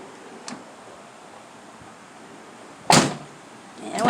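The door of a Chevy Tracker with a faulty check that will not hold it open swings shut with one sharp, close thud. A fainter knock follows soon after.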